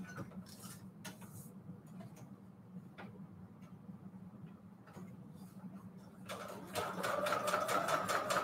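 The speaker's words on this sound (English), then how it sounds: "Now we can sew around." A sewing machine stitching around a pocket made of book pages for a junk journal, a low steady motor hum with faint ticking and clicks, rising into a faster, louder rhythmic needle chatter at the end.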